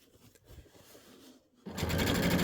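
A sewing machine stitches in the ditch through layered quilt fabric with needle and presser foot held down, starting after soft handling noises and then running steadily and loud, up close, without speech.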